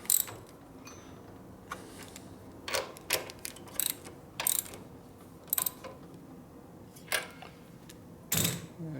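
A ratchet wrench tightening a riser bolt on a 1957 Harley-Davidson Panhead, close-up metallic clicking in short irregular bursts with quiet pauses between strokes.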